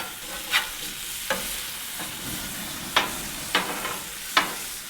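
Smash burgers and onions sizzle on a griddle with a steady frying hiss. Several sharp scraping taps of a spatula break through at irregular intervals, close by.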